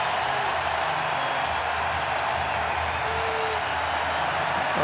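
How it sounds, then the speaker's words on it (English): A baseball crowd at American Family Field roars during the 2024 Wild Card Series Game 1 between the Mets and Brewers, a dense continuous wall of cheering and applause. "And here comes the crowd at American Family Field."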